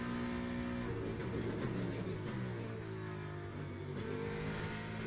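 Race car in Le Mans Ultimate accelerating, its engine note climbing in steady harmonic layers and holding loud and close throughout, with no talk over it.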